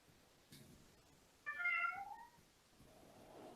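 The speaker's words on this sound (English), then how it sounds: "And your cat agrees." A house cat gives a single clear meow, short and fairly close, with faint background noise and a softer sound just before it.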